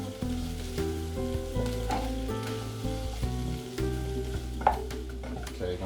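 Sweet peppers sizzle steadily in a hot pan and are stirred now and then, making a constant close frying crackle with occasional scraping pops. No voices are heard.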